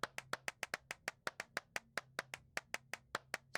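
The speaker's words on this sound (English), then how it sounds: "Here's me. Clapping." Hands clap steadily inside an abandoned church, about twenty crisp, evenly spaced claps with a short reverberant ring after each, no talking.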